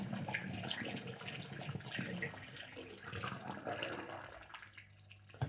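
Water kefir poured from one jar through a strainer into a second jar, a steady continuous splashing trickle of liquid close by that carries on for several seconds before tapering off at the end.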